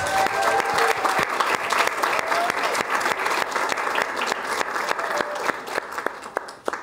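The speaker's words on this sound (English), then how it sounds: "let's give a hearty round of applause" Sustained applause from an audience at a university alumni reunion faculty keynote, dense steady clapping filling the room for the full length with no speech over it.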